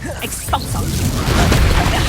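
Expulso blasting spell in Hogwarts Legacy: a booming magical blast amid chaotic combat, with crackling impacts and a swelling rumble that grows louder toward the end.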